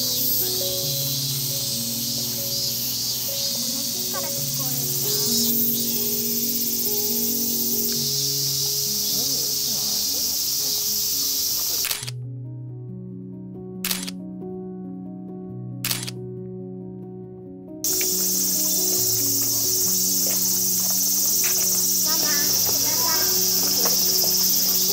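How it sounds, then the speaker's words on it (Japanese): Summer cicadas at a temple site in Miyagi, Tohoku, during a heat wave: a steady, shrill, high buzzing drone that carries under background music throughout, cutting out briefly in the middle before resuming. "セミの鳴き声が"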